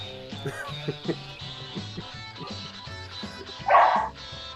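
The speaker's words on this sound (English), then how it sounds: "that was my dog barking" A large dog barks, joined by a second dog, with a big burst of barking near the end over background music and chatter.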